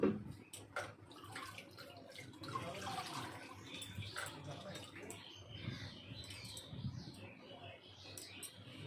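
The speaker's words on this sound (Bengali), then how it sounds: "এ দেখো স্নান করাচ্ছি দেখতে পাচ্ছ দেখো স্নান হয়ে গেছে রাধা গোবিন্দের" Water poured over small Radha Govinda deity idols during their bath, a steady splashing and trickling that runs the whole time close by, with soft handling clatter and no talk.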